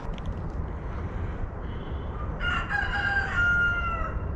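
A rooster crows in the distance, faint and drawn-out, over a steady low rumble of background noise.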